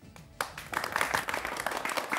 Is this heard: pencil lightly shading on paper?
no